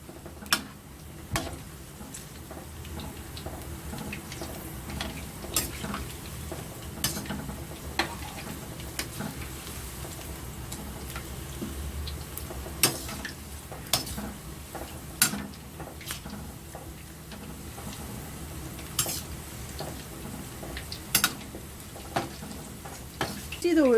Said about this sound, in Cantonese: 用中火炸就得嘅啦